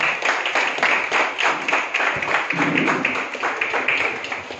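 Audience clapping at a calendar release ceremony held by a Kunbi community group, a dense burst of many hands applauding together, steady and fairly close for a few seconds.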